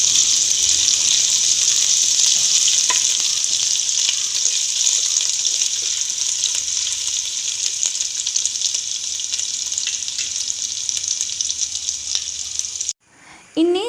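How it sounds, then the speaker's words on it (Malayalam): Prawn mandi masala sizzles and fries steadily in a pan while being stirred, a loud, continuous hiss that stops abruptly near the end. "നന്നായിട്ടൊന്ന് ഇളക്കി കൊടുക്കാം"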